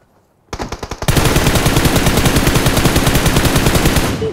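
Loud automatic gunfire in the mobile battle-royale game PUBG Mobile: a few quick separated bursts, then a sustained, rapid, unbroken stream of shots that runs to the end.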